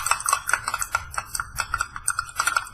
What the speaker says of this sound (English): And we'll start stirring.